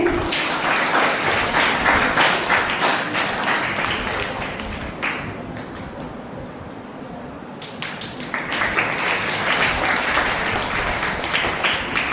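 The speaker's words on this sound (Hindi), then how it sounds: "सभी तालियां बजाएंगे" A Brahma Kumaris summer-camp audience in Burhanpur breaks into dense, steady applause, dipping briefly in the middle before surging back to full strength, loud and close throughout with no talking.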